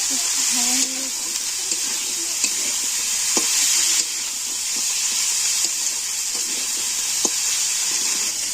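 Chicken leg pieces with ginger paste frying and being stirred in a pan, a loud steady sizzle broken by occasional spoon taps and scrapes, close up with no talk.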